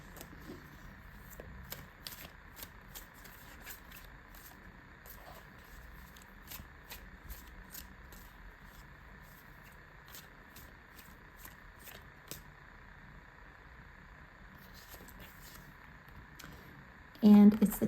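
Tarot cards are shuffled close by in a long series of quick, crisp flicks and riffles over a faint steady background hum, ending in a louder burst of handling noise.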